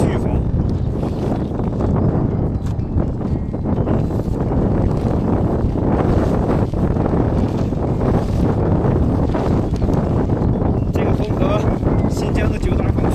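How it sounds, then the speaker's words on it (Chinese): Strong force 5 to 6 wind roars across the snowy Guanshan mountains near Longxian, Shaanxi, during a long-distance ride. Loud, constant buffeting rumble batters the microphone throughout, and a voice may be partly buried beneath it. "今天这个风还不算特别大，这个风也就5、6级"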